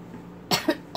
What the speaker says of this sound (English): Gotta stop joking around, make myself cough.